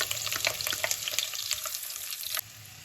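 Chopped onions and garlic frying in melted lamb fat in a pan, giving a steady close sizzle with crackling pops and spatters, quieting briefly near the end.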